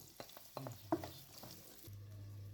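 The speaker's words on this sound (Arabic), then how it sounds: "أولا راح نكرمل البصل" Onions stirred and caramelizing in a pan, with soft scraping and stirring sounds over a faint sizzle, close and quiet, followed by a low steady hum near the end.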